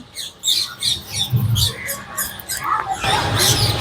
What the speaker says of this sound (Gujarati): પંખી છે ને બહુ બધા બોલે છે